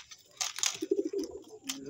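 Pet pigeons coo in a low, soft burst of a few repeated notes near the middle, with brief rustling and scuffing around them in a small loft.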